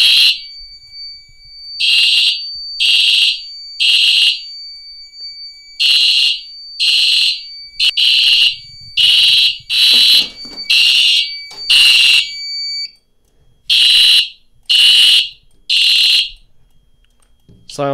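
Simplex fire alarm system sounding after being re-alarmed with a BG12LX pull station, loud piercing electronic horn pulses in a steady repeating pattern, close and dominant, with a brief pause before the pulses resume.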